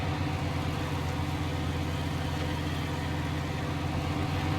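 A truck's engine in the off-road driving game SnowRunner drones steadily and loudly throughout, a dense continuous roar with rich low-end rumble and no break or voices.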